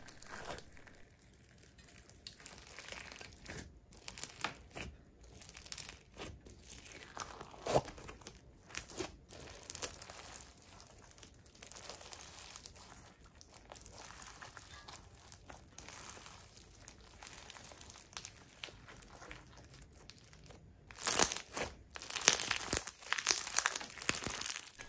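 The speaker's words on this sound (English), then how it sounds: "It is also incredibly crunchy and has some excellent bubble pops." Close, crisp crunching and crackling of squished slime, with quick bubble-popping snaps that grow louder and denser near the end.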